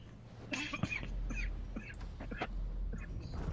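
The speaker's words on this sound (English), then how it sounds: "Yeah, I still got that bad cough." Several harsh coughs from a person nearby, loud and bursting in short irregular clusters over steady low background hum.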